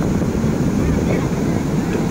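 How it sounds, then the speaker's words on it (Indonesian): Ocean waves crash and wash steadily onto a beach, a continuous rough roar with wind buffeting the microphone, with no clear speech. "deburan ombak"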